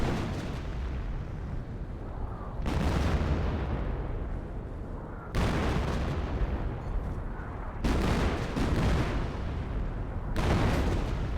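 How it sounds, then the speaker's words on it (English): Howitzer artillery rounds in the Company of Heroes game landing as four heavy booming explosions at roughly even intervals, each a loud blast that rumbles and fades into the next. "howitzer firing in this range as well"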